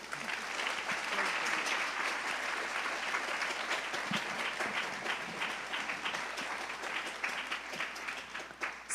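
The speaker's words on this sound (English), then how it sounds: "Can we have a round of applause?" A symposium audience in Chicago gives a sustained round of applause, dense steady clapping filling the full stretch at a constant loud level with no voices standing out.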